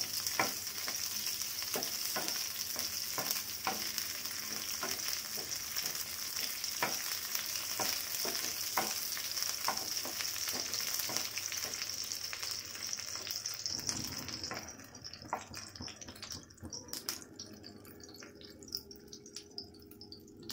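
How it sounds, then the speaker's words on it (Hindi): Paneer-dish ingredients shallow frying in oil over a high flame, a loud dense continuous sizzle with small crackles, easing and thinning toward the end with a few clinks. "हाई फ्लेम से बस शैलो फ्राई"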